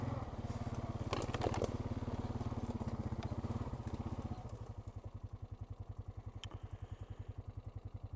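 A Honda Rancher 420 ATV engine chugs steadily while riding an old trail, a close, loud, even pulsing thump that settles into a slower idling putter toward the end.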